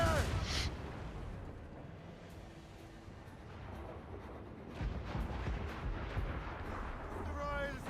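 Ship cannons firing in the naval battle of Assassin's Creed Rogue: heavy booming blasts at the start and again past midway, set over rumbling sea and battle ambience, with voices speaking at moments.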